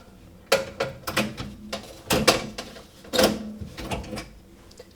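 A metal wire rack is pulled out of a dirty electric oven, giving a series of close, sharp metallic clanks and scrapes in irregular bursts with quiet gaps between them.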